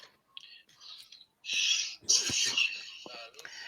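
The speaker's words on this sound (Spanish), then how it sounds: "Comenzamos con un estornudo" A sneeze bursts out amid short breathy sounds during a Spanish-language live stream, a sharp loud blast followed by a trailing exhale, close to the microphone.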